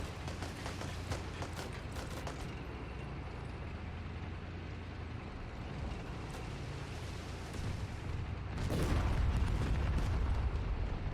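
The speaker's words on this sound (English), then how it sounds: "Another enemy tank destroyed." Destroyed enemy tank blows up in Call to Arms during an armored assault on a downtown urban area, a loud low boom swelling near the end over continuous battle rumble and scattered gunfire cracks.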